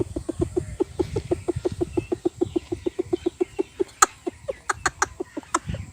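A man imitates a mother hen calling her chicks to food with a rapid, evenly spaced string of soft clucks, close and clear, ending with a few sharper higher clucks.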